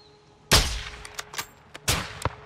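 Gunfire in the video game Call of Duty: Modern Warfare 2 (2022): a sharp, fairly quiet shot cracks out, then a second one follows about a second and a half later, with small clicks and metallic clinks scattered between them.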